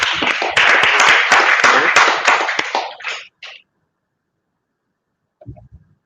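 A roomful of people at a Kiwanis club meeting applauds, steady clapping that swells and then tapers off, followed by silence and a brief faint shuffle.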